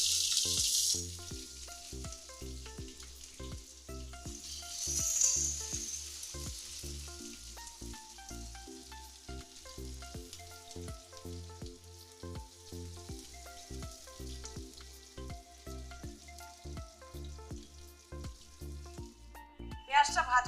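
Onions fry in hot oil with white cumin, four dried red chillies and a bay leaf, giving a continuous close sizzle with brief louder hisses and regular clicks of stirring.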